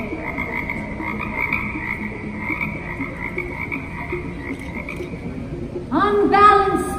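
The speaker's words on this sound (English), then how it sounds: "give us a sign with the croaking of toads" Toads croaking in the Haunted Mansion at Disneyland, a continuous chorus of steady croaks, then a louder, brighter burst of croaking near the end.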